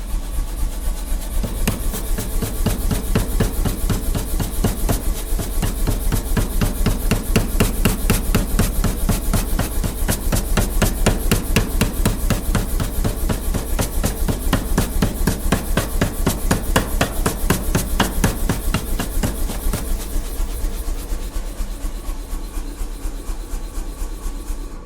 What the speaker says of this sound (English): So that's the electric hammer. It's, well, you'd say it was pneumatic.